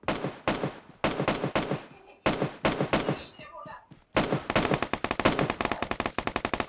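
Video game gunfire in PUBG Mobile, rapid automatic bursts of loud shots in several volleys with short gaps, ending in a dense sustained stream.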